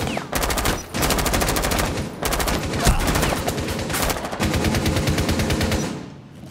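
Sustained automatic gunfire in Rainbow Six Siege, loud and close, comes in several long bursts separated by brief pauses, with a single sharper crack partway through.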